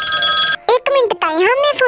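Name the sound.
phone ringing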